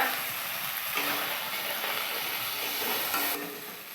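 Chopped tomatoes frying in a cooked spice paste for a vegetarian doi potol dish, a steady soft sizzle with faint stirring scrapes, fairly quiet and unbroken.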